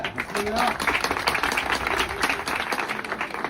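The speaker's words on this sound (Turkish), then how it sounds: "Alkışlarla." Clapping from guests at a Turkish wedding gathering in Avignon, France, during hymn singing; a dense crowd clapping that rises and falls in level, with voices mixed in underneath.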